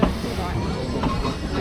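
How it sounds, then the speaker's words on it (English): Excelsior steam train running on the Great Whipsnade Railway, a steady rumbling chug with hiss and wheel clatter, fairly close and continuous throughout. "Steam engine."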